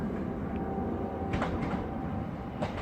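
A train, a class 465 unit, rolls into Charlton station with a steady low rumble and rail noise close by, and a few faint clanks ring out above it.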